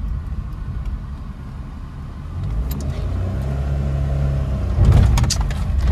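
A learner's car engine revs hard as the accelerator is pressed on a rough, potholed road, a close, rising mid-range roar that swells and surges near the end, with no talk over it.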